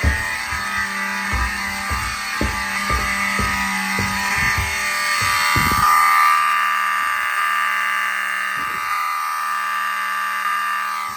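A smoke alarm sounds continuously during a fire alarm system test with a loud, shrill electronic tone, accompanied by a rapid series of clicks and knocks that stop partway through.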